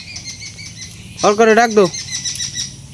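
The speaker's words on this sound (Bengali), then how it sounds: "এই যে পাখি আইছে পাখি" A bird gives a loud, close, harsh call lasting about half a second near a home kitchen, over a steady background chirping of other birds, while a person speaks briefly.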